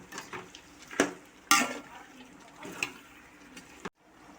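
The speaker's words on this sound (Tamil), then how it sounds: "இது எல்லாம் ஒன்றா மிக்சர் அளவுக்கு நல்லா கிண்டி விடுங்க." Beef biryani mixture is stirred in a cooking pot, with a few sharp scrapes and clinks of a spoon against metal amid soft moist shuffling, close and fairly quiet.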